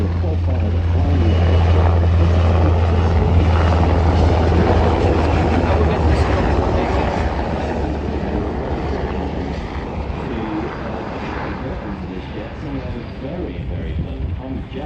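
A Seahawk military helicopter in a flying display at the 2025 Avalon Airshow's night show: a loud, steady, close rotor and engine roar that lasts throughout and eases slightly, with voices underneath.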